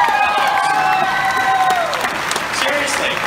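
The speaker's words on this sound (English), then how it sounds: "Give yourself a round of applause." A convention crowd at a fan event claps and cheers loudly and steadily, with voices calling out through the applause.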